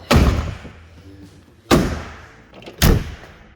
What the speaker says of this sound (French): le bruit des portes, bah ça fait beaucoup de bruit